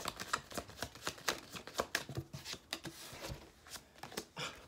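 Tarot cards are shuffled close up in a quick series of crisp, papery riffles and snaps, irregular in rhythm and fairly quiet, with no talking.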